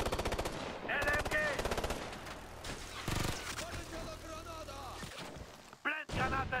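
Light machine gun fire in the Ghost Recon Future Soldier video game, a fast rattling burst of automatic shots up front followed by further gunfire and combat noise, with voices shouting in German.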